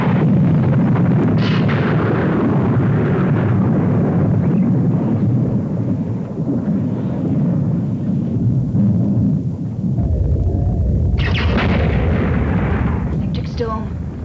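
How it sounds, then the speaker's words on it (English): Electric storm lightning strikes hit a spaceship in a sci-fi scene, a dense continuous rumble with heavy booming cracks, a louder strike near the end, and voices speaking under the noise. "Electric storm. Earth lightning."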